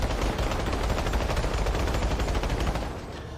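Automatic rifle emptying a full magazine while aiming down the sights in Planetside 2, a dense continuous roar of rapid shots that fades slightly at the end, loud and close with no talking.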